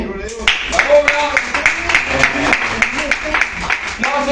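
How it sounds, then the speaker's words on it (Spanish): A church congregation claps in rhythmic, steady beats at a lively worship service, with voices shouting over the clapping throughout. "Dale fuertes palmas a Cristo."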